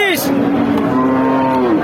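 A cow with a calf lets out a single loud, close moo that rises and holds for over a second before fading.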